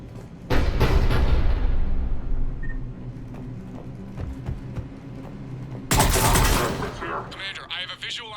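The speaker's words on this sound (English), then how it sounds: "The cannon fire is clearing the way." Cannon fire and gunfire in the video game Mass Effect 3: two loud bursts of heavy weapon fire open and close the stretch, with scattered quieter shots and mechanical clatter between them and a game voice speaking faintly.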